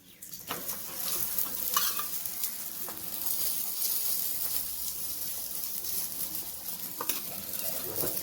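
A paratha made with leftover dal cooks in heated oil on a pan, giving a steady close sizzle with occasional scraping and tapping sounds, no voices.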